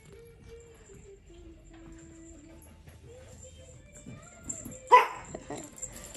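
A small puppy lets out a single sharp bark near the end, close by, after several seconds of quiet room noise and soft, faint voices.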